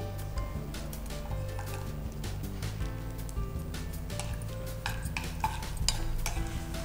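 Ghee sizzles steadily in a pan while a utensil stirs and scrapes in repeated close, irregular strokes, with soft metallic clinks over the continuous frying hiss.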